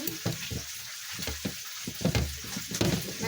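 Fish batter for tortang boquerones with cabbage being mixed by hand: a soft, wet scraping and stirring close by, with irregular thuds and swishes over a steady faint hiss, no talking.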